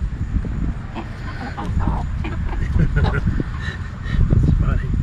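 Chickens cluck in short, repeated bursts nearby over a windy, rumbling outdoor background, with a person speaking now and then.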